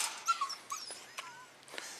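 A dog whimpers and whines in short high-pitched squeals and yips, several brief cries spread over a couple of seconds, fairly faint and close.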